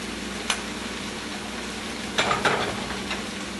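Curry paste stirred in a hot pan for eggplant bhartha, with garam masala, coriander powder and salt in the mix; a soft steady sizzle runs throughout, broken by a couple of brief scraping clinks of the spoon against the pan.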